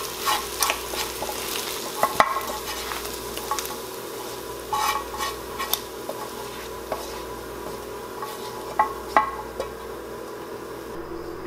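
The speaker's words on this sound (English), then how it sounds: "I like to cook my veggies just a little before I put it in" Vegetables fry in a pan with meat juices and spices for pumpkin chili, a continuous close sizzle punctuated by irregular scraping and clinking of a utensil stirring against the pan.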